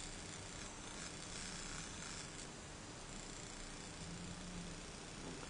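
Drawer motor of an NAD C525BEE CD player running, a steady close mechanical whir and hum with faint rattling texture, continuous and even in level throughout with no talking.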